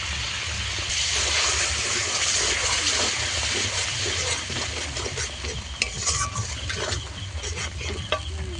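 Spices fry loudly in a pan as a little water is added during cooking of a river eel curry, producing a dense continuous hiss and sizzle with a few faint clinks near the end.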